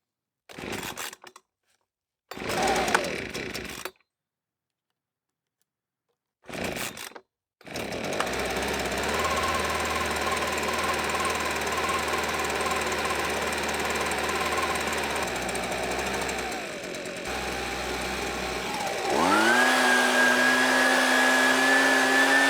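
An old Barracuda leaf blower two-stroke engine sputters through a few brief pull attempts, then catches and runs at a steady loud drone before revving higher near the end.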